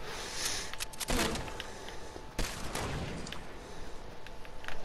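Enemy sniper fire in Fortnite, a few sharp loud cracks ringing out over ambient game noise, with two strongest shots spaced apart and no talking.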